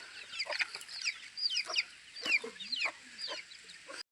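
Chickens clucking and chattering along an old hillside village path in Taplejung, a run of short, quick calls repeating irregularly, moderately close and fairly soft, with no voices.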